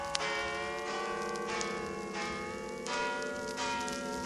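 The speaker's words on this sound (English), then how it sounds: "Listen, the bells." Church bells ring at midnight on Christmas in an animated Batman Christmas Carol scene, a rich, continuous peal with fresh strikes about every second.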